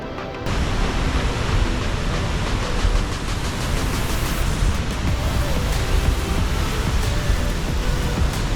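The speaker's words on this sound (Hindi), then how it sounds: "ये है मार्क वैली कैनियन का एक वाटरफॉल" A waterfall in the canyon valley near Mestia roars as a steady, loud, broadband rush of falling water that fills the whole scene without pause.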